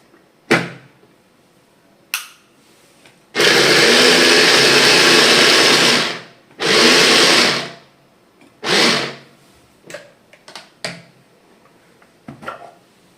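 An electric chopper machine cutting cabbage in a kitchen, whirring in two loud sustained bursts of about two to three seconds each, separated by clicks and knocks of the lid and container, followed by a shorter whir and more handling clatter.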